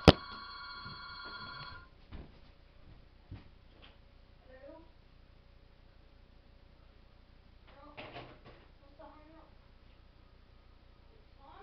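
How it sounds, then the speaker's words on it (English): A telephone rings in two quiet bursts, one at the start and another several seconds later, with soft thuds and faint room sounds between the rings. "I picked up the phone. That was the last time it rang"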